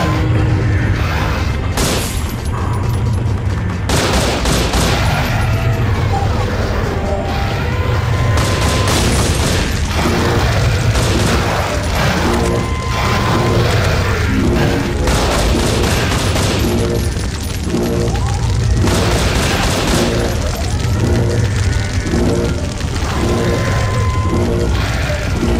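Loud, continuous gunfire and explosive booms from the video game Dredd vs Death, dense overlapping shots and crashes layered over game music with no pause.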